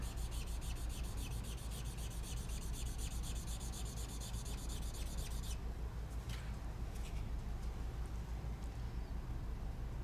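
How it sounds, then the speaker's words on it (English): Ecoline 318 marker colored across paper in a steady, continuous rubbing scratch, close and fairly quiet, with lighter separate strokes toward the end. "So I'm going to take my Ecoline, and I'm just going to color."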